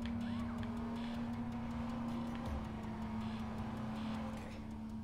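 A car in Watch Dogs drives along with a steady engine drone, a constant hum that stays even and moderately loud throughout, with no talk over it.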